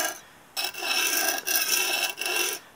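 A knife blade drawn back and forth across a whetstone makes about three close, steady rasping strokes, with brief pauses between passes.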